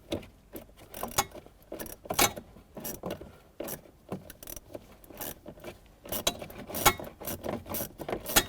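A ratchet on an extension with an 8mm socket loosens bolts inside the dashboard of a 2008-2010 Ford F-250 Super Duty, giving quick, faint metallic clicking bursts in irregular runs, near and alone.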